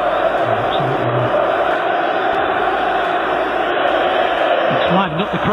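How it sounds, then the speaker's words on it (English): Large football stadium crowd at a Milan vs Roma match, a steady loud roar with rising shouts and cheers throughout, commentary voices over the top. "It's livened up the crowd a little bit."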